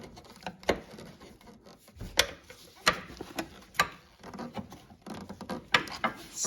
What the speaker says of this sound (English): Pry it out with a flat blade screwdriver maybe.